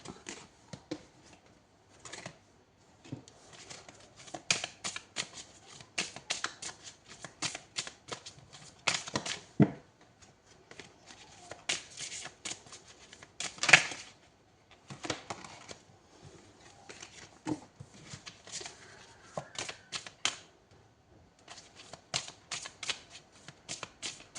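Tarot cards shuffled by hand in a steady run of crisp riffling bursts and soft flicks, close and clear, with brief pauses between rounds and no talk over them.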